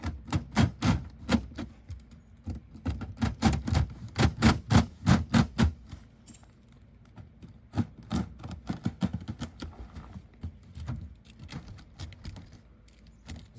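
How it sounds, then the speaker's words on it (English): A utility knife slices through a screen of manufactured-home skirting in a run of sharp, rapid scraping strokes, close and crisp, then thinning into scattered cuts. "So let's cut out this screen that we got here."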